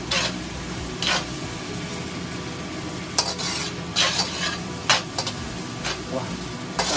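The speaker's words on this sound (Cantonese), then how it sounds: "啲醬料一定要爆香佢㗎" Sauces stir-fried in a pan to release their aroma for a lamb brisket stew, a soft sizzle under repeated metal spatula clicks and scrapes against the pan, close and fairly quiet.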